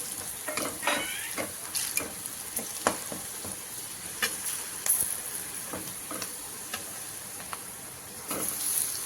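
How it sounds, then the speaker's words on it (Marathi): Potatoes stir-fried in a pan with turmeric and red chili give a steady sizzle and hiss, broken by repeated scraping clicks of a spoon stirring and tossing them, with no talking. "आलू त्यात टाकून असं परतून घेऊ।"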